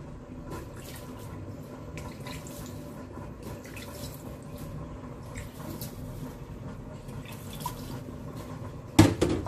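Water trickles and splashes steadily onto couscous in a kitchen as the grains are moistened little by little, a continuous soft pouring sound ending in a brief louder clatter.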